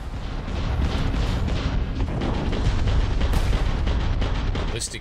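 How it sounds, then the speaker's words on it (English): Starfield space combat in a video game, with ballistic weapons and missiles firing. A constant heavy roar of rapid booming fire and rumbling blasts fills the scene, loud and dense, with a brief higher crackle near the end and no clear talk. "Ballistic weapons, because they damage hulls, whereas lasers damage shields."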